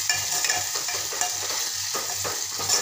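Finely chopped tomato sautés with garlic and cumin for a green beans and potato sabzi, a steady close sizzle with rhythmic stirring scrapes throughout and no voices.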